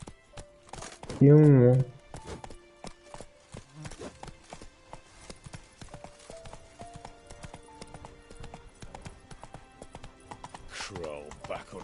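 Roach, Geralt's horse in The Witcher, clip-clops along at a steady, close, rhythmic pace throughout, with one loud whinny near the start and someone speaking briefly over the hooves.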